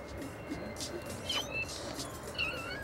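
A cat in the video game No More Heroes lets out a few brief, high, wavering meows over a steady bed of game background noise.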